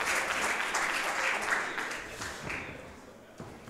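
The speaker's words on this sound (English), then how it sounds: "Crowd trying to rile up Brooks." A wrestling crowd claps and cheers to rile up a wrestler, a dense wash of applause that is loudest early and then gradually thins out.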